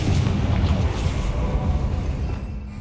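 Spell blast from the Confringo fire curse in Hogwarts Legacy on Xbox Series X, a loud, rumbling, boomy explosion that fills the clip and slowly fades toward the end.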